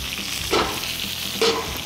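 Butter melting over thyme and oregano alongside a pork loin in a cast-iron pan, sizzling in a steady broadband hiss with two brief louder surges as the fat spits, no talking.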